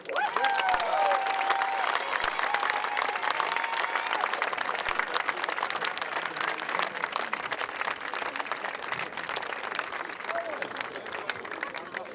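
A large crowd applauds and cheers at an arrival event, dense clapping sustained throughout at steady loudness, with some voices calling out within the noise.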